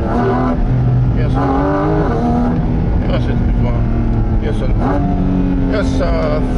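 A Porsche GT4 RS engine roars loudly through a mountain pass, rising and falling through revs and gear changes, heard from inside the car with people talking over it.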